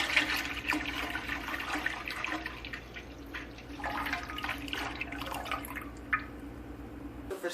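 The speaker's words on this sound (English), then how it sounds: "We're going to start with our milk and pour it into the pan." Raw goat's milk is poured into a pan for homemade Colby cheese, a soft steady liquid trickle and splash close by over a low background hum, with no talking.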